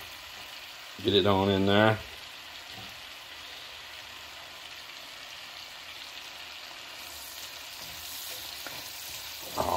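Tomato, garlic and onion frying in butter in a pan at a beach house kitchen in the Philippines, a steady close sizzle running throughout, with someone speaking briefly over it near the start.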